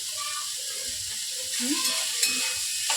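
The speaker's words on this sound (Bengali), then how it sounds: "ঝিঙ্গাটা প্রায় ভাজা হয়েই গেছে" Ridge gourd frying in a pan, a steady loud sizzle and hiss throughout with occasional stirring scrapes, while a voice talks under it.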